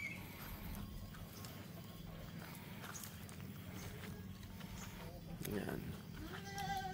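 Goats warming themselves on a farm in the morning bleat now and then amid a busy farmyard murmur, with a person speaking over the animal sounds.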